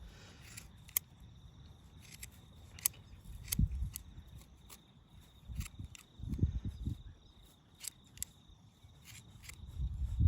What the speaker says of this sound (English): These are actually quite good scissors.